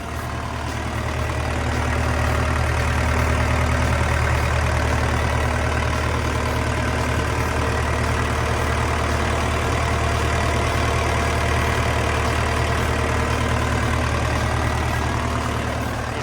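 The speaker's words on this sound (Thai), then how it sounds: "เขาใช้เครื่องยนต์เป็นเครื่องยนต์โคมัสุ 4D 102" The Komatsu 4D102 diesel engine in a Komatsu WA150-5 wheel loader idles, giving a loud, steady, close rumble that holds unchanged for about sixteen seconds.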